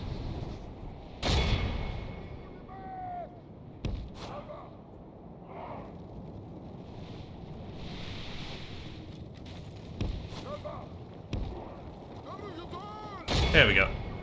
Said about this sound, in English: Just letting everybody shoot as much as they wish.